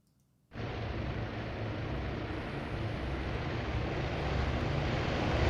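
Dozens of aircraft engines in the Task Force Admiral carrier-battle game roar up for takeoff, a dense, loud, steady drone that starts abruptly after a near-silent moment and gradually grows louder.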